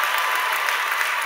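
A graduation audience at an agricultural sciences ceremony breaks into sustained, loud applause, a dense wash of clapping that fills the hall and holds steady throughout.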